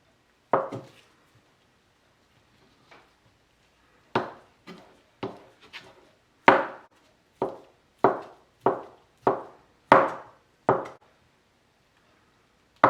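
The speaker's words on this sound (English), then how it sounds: "we're done chopping the mozzarella" A knife chops through mozzarella on a board in a kitchen, giving a string of about fifteen close, crisp thuds in short uneven bursts and steadier runs, with quiet gaps and no talking.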